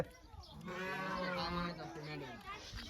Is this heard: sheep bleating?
yes